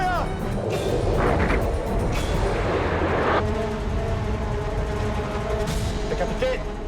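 A submarine's torpedo tube fires in a wartime film, a loud sustained boom and rush of compressed air lasting several seconds, with rumbling low-end and a brief hiss partway through, layered over a dense noisy background.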